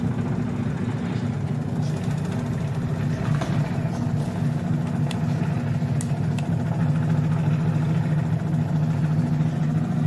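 A homemade high-frequency AC generator spins under load, giving a steady, loud machine drone with a constant hum throughout and a few faint clicks, no speech.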